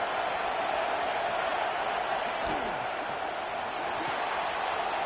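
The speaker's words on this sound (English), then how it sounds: "this crowd is fired up. Listen to this noise here." A football stadium crowd roars in a steady, loud, continuous wash of cheering noise, with no break across the span and faint commentary buried beneath.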